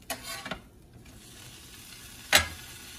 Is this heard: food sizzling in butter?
yes